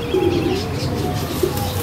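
Large-headed pigeons coo in low repeated calls at close range, with faint chirps and light wing sounds around them in a loft.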